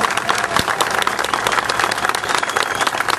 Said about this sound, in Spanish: Un aplauso para este día.